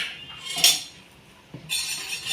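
Wheat batter being stirred into boiling water in a pot, with sharp metallic scrapes and clinks of a utensil against the pot at intervals over a quiet background.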